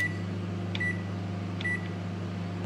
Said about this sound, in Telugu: ఓవెన్ కూడా ప్రీ హీట్ చేసుకోవాలి